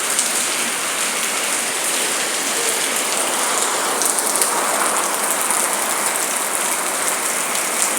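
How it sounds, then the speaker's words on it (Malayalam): Heavy rain pouring steadily and loudly, a dense, unbroken hiss of drops hitting surfaces all around, with no voices. "അടിപൊളി മഴ"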